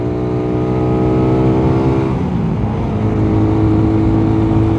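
A carbureted Rusi Raider 150 motorcycle strains up a hill, its engine droning loud and close with a steady high-revving whine that shifts pitch midway.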